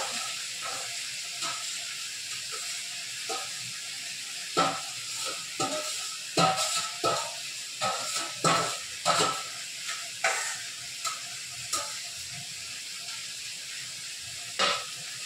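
Pabda fish and vegetables frying in oil in a pan: a loud, steady sizzle and hiss running throughout, punctuated by a series of close stirring scrapes and clacks.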